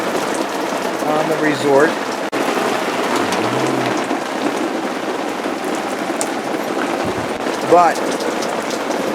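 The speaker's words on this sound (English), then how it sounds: "this isn't just rain. This is rain that comes from Tropical Depression Arthur" Steady rain from Tropical Depression Arthur falls at a resort, a constant wash of drops under a reporter talking throughout.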